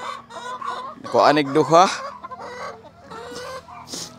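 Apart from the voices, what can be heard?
Rhode Island Red chickens clucking on a farm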